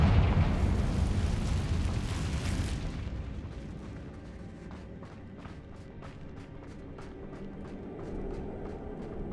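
A Confringo spell blasting in Hogwarts Legacy: a broad roaring explosion bursts at the start and rumbles for a few seconds, then fades into crackling debris and a low lingering ambience.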